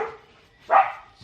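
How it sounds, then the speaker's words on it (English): A pet dog gives two sharp barks at someone at the front door, a fainter first yelp followed by a louder close bark, with a third starting at the end. "excuse my dog's going nuts."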